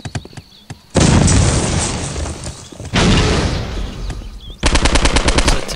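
Video game Postal 2 combat: sharp, loud bursts of rapid gunfire with booming blasts, three heavy volleys separated by brief quieter gaps, the last a fast rattling string of shots, no talk.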